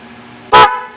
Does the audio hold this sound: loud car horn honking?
yes